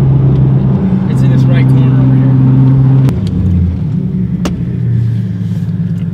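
A big-turbo BMW E34 on a road shakedown drive, its engine droning steadily then dropping in pitch as it shifts, with a low rumble and occasional clunks throughout, loud and close from inside the car.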